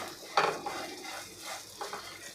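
Sprouted moth beans being mixed into a spicy village-style bhel, a few soft scraping, clattering strokes against the bowl at close range, with brief pauses between them.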